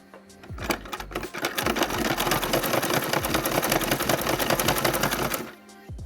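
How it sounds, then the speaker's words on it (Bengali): A home sewing machine stitches steadily, its rapid mechanical whirring running loud and continuous for about five seconds before stopping, with a brief quieter start and end. "ঘরের মধ্যে এরকম একটা সেলাই মেশিন রাখলে খুব সহজে আমরা নিজেদের টুকটাক কাজগুলো এভাবে খুব সহজে সেরে নিতে পারি"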